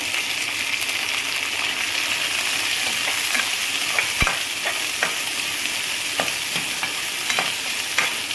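Finely chopped onions frying in a pan with green chili, ginger and cumin, a steady close sizzle with occasional clicks and scrapes of a spoon stirring.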